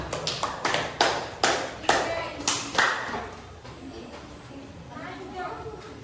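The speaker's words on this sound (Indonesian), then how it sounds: "tepuk tangan dulu untuk kelompok" Classroom applause for a student group, with a run of sharp hand claps in the first three seconds that thins out into a quieter room murmur.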